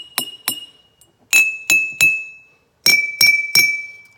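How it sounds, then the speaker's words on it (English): A metal spoon strikes the side of a water-filled drinking glass: eight sharp, ringing clinks in three quick groups, each leaving a sustained bell-like tone that fades between hits, with no talking. "when I hit the side of the glass with the spoon"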